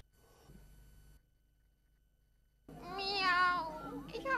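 A cat meows once, drawn-out and wavering, rising then falling, fairly close, after a quiet pause with faint murmuring at the start.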